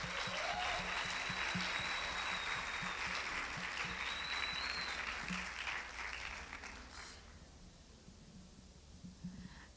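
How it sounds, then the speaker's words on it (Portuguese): A church congregation applauds in a sustained, even wash of clapping that fades toward the end, leaving quieter room noise and a few scattered claps. "Pode aplaudir ao Senhor."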